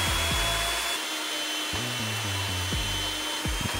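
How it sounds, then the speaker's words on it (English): A magnetic drill bores holes in steel for a DIY lifting beam, its motor droning steadily with repeated stepped pitch changes as the cutter loads and unloads, loud and close throughout. "So I decided to use my mag drill and drill those holes out."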